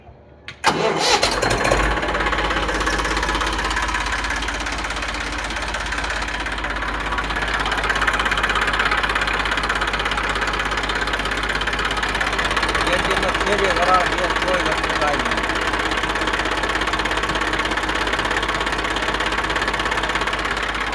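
An Eicher 380 farm tractor, owned by a farmer and run about 350 hours, starts and settles into a steady, loud, rumbling diesel idle with a faint knock, while people talk nearby.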